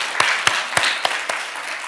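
Church congregation applauding during a Sunday worship service, a steady wash of clapping from many hands with a few sharper individual claps standing out, filling the room at moderate loudness.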